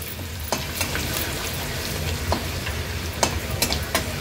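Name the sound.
crushed ginger and garlic frying in oil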